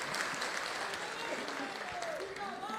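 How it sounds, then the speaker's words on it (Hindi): Crowd clapping to welcome a guest at a political rally in Mumbai, a dense, even wash of applause with voices rising through it. "मैं तालियां बजाकर इनका बहुत बहुत अभिनंदन करता हूँ"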